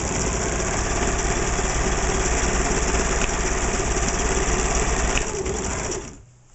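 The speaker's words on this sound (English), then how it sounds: "That's marine grade, very, very thick vinyl." A sewing machine stitching very thick marine-grade vinyl runs fast and steady, a close mechanical hum and rapid stitching rattle, then slows and stops at the end.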